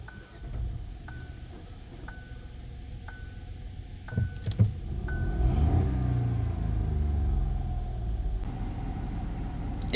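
A Hyundai Venue with a 1.0 turbo petrol engine gives a few electronic chimes as the system powers on, then the engine starts with a brief rumble and settles into a low, steady idle.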